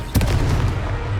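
Fire-blast spell cast in the Hogwarts Legacy video game: one sharp, loud explosive boom opens the clip, followed by a dense, continuous rumble of combat noise.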